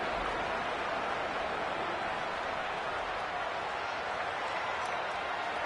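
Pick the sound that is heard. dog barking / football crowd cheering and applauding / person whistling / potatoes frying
football crowd cheering and applauding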